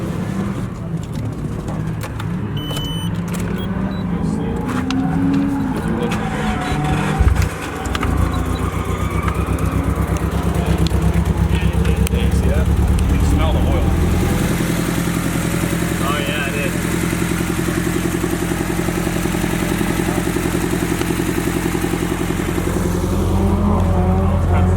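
A drift car's engine with a blown turbo starts and idles roughly, then revs into a loud sustained drone, outdoors with birds cooing and other engines around.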